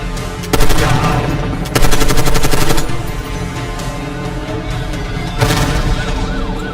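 Light machine gun fire in Call of Duty Black Ops 6, loud sustained bursts of rapid automatic shots with short pauses between, over a constant din of battle.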